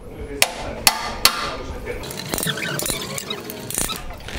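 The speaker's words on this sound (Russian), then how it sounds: "И фиксируем ударной отверткой." A manual impact screwdriver is struck with a hammer to fix screws during a repair in a workshop: three sharp, evenly spaced metallic hits, followed by lighter clattering and scraping.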